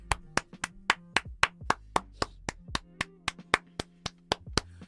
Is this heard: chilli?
no